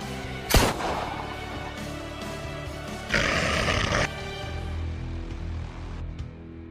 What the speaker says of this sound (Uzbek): Tuyuqsiz etilgan o'q ovozi bo'lsa, ularning qarshi tarafidan chiqqan bo'lib